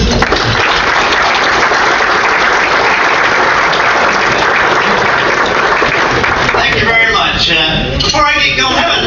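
Audience applause welcoming a speaker to the stage, with loud, dense, sustained clapping from a large crowd that gives way to a voice speaking near the end.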